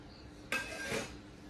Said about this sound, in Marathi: मीनाचं चाललंय भांडी वगैरे घासायचं